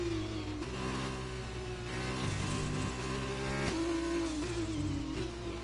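F2 race cars scream past in an F1 video game league race, engines holding high-pitched, shifting tones with gear changes, loud and continuous with no talking.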